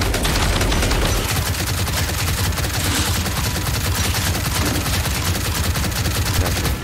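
Dense, rapid automatic gunfire from the Gears 5 video game plays almost without a break, loud and steady, with no talking.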